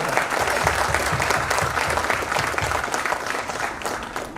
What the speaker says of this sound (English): Clapping is important.